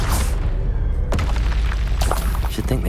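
A Confringo explosive spell from Hogwarts Legacy detonates in loud, booming blasts, a heavy burst at the start and another sharp impact midway, followed by rumbling debris and crackling effects.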